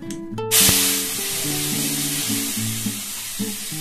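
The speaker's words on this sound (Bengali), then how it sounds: "আমি নুন দিয়ে একটু পটলগুলো ভাজতে দেবো" Pointed gourd (potol) frying in hot oil with salt, a loud sizzling hiss that bursts in early and then settles into a steady crackle, with faint tonal hum running underneath and no one talking.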